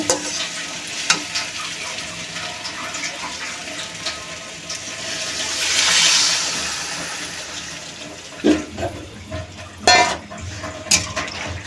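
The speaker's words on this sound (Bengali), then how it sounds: "এখন আমি একটু পরিমাণ মতো জল দিয়ে দেব।" Water pours into a hot pan of fried cauliflower and vegetables with a rising hiss and sizzle, followed by a few clanking stirs against the metal.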